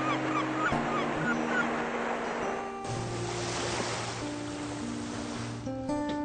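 Ocean waves wash beneath a 50-metre sailing galleon, a broad steady surf rush under sustained low tones, with honking, goose-like calls early on.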